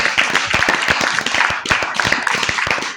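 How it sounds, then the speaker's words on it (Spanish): A pastors' gathering audience gives loud applause, dense sharp clapping from many hands at close range, steady throughout with little talk. "Dale fuerte aplauso, papá."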